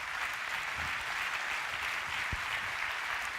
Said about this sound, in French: On l'applaudit bien fort s'il vous plaît.